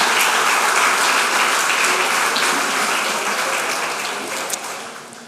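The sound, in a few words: church congregation applauding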